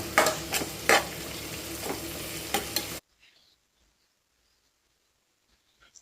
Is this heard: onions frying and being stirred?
yes